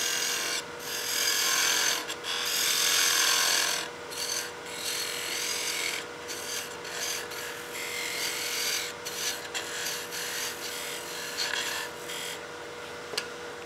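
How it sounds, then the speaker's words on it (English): A parting tool cuts into a spinning wooden tenon on a lathe for a baby rattle, giving a steady raspy scraping with short louder bursts over a continuous motor hum. "I'll be using a parting tool to set my tenon length and diameter."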